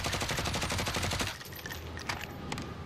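Grau assault rifle firing in Modern Warfare multiplayer, a fast, steady automatic burst of closely spaced shots for over a second, then sparse quieter game sounds.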